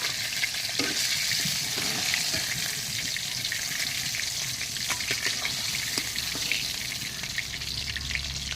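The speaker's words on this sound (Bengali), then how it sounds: "মাছটা দেখুন আমি ভেজে নিয়েছি, এখন কত সুন্দর করে ভেজেছি।" Fish sizzling as it fries in a pan, a loud, continuous crackle of hot oil with occasional clinks and stirring noises, close up and with no talking.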